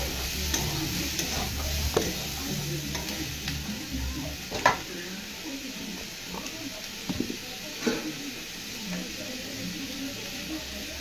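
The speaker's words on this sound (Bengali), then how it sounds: "হ্যাঁ, রান্না করছি।" Food fries and sizzles in a pan under a steady hiss, broken by intermittent clicks and scrapes of stirring, with some speech faintly present.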